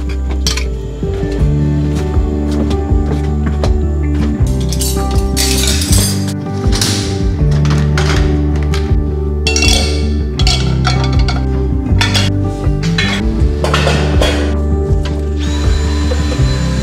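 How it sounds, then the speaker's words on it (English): Dishes and silverware clink and clatter repeatedly as they are pulled from storage in a Winnebago Revel camper van, loud and close, with busy metallic rattles and knocks throughout. "take all the dishes out and all the silverware out"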